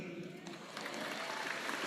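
A church congregation at a Tagalog preaching service breaks into applause, a dense wash of clapping that swells and grows steadier about midway through.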